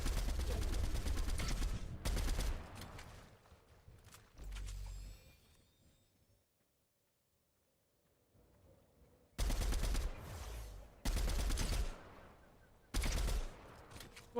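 Gunfire in the video game Fortnite, with loud rapid bursts of shots in several clusters separated by a quiet gap, the shots crisp and close.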